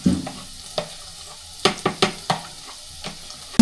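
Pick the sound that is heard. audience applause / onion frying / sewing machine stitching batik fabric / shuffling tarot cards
onion frying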